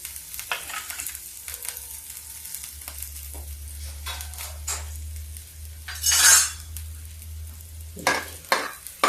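Garlic, ginger and green chili sizzle and fry in hot oil in a home kitchen, with steady crackling broken by stirring, clinking utensils against the pan and a brief louder hiss partway through; no talking.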